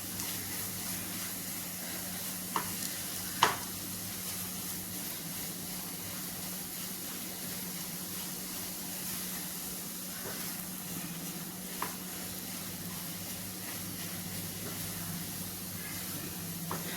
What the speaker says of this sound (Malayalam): നമുക്കിത് നല്ലതുപോലെ ഒന്ന് ഇളക്കിയെടുക്കാം